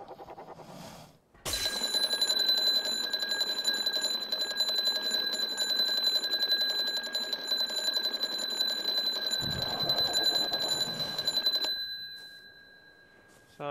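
An audio trap alarm in ARK: Survival Evolved blares as a loud, continuous high-pitched electronic ringing tone for about ten seconds before cutting off, with faint game ambience around it.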